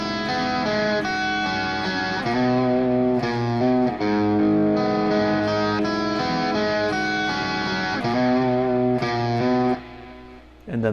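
Distorted electric guitar plays a lick without palm muting, with vibrato on held notes plus reverb and a little delay; a steady, loud run of phrased notes with brief pauses and no one talking over it.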